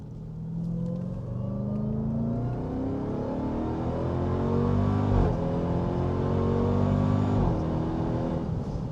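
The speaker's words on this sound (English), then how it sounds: "Shifts also sound super aggressive. It's a very good sounding car." 2026 Dodge Durango SRT Hellcat SUV on a race track, engine climbing steadily in pitch under hard acceleration, with crisp gear shifts briefly dropping the tone before it rises again; loud, close and continuous.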